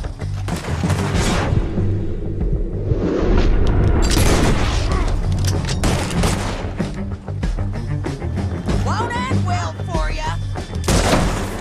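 Gunfire rings out in a Red Dead Redemption 2 shootout: heavy booming shots and thuds come in quick succession, loud and close, blended with game music and voices talking over the action.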